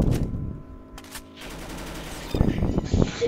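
Gunfire from the player's weapon in the Roblox game Arsenal: a brief burst of rapid shots at the start, then quieter game noise, with more sharp shots and voices near the end.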